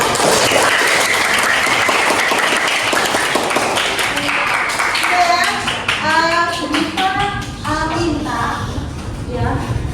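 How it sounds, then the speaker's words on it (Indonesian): A group of children clap hands together in a classroom, a dense burst of claps at the start with voices and chatter rising over it as the clapping fades. "Kita beri tepuk tangan dulu untuk kita semua."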